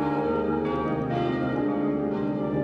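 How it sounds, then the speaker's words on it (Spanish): Centuries-old wrought-iron bells in the tower of Valladolid cathedral ring out with rich sustained metallic tones, overlapping strikes blooming every second or so. "su catedral y sus campanas centenarias que puntualmente tañen en ocasiones de culto"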